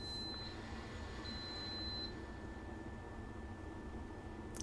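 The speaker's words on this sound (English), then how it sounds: "as the rice cooker beeps" A rice cooker gives two high electronic beeps, a short one then a longer one, fairly faint over a steady background hiss, with no one talking.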